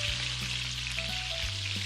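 Small fritters of palm fruit batter fry in hot white oil in a wok, a steady close crackling sizzle with a low hum underneath, continuous and fairly loud.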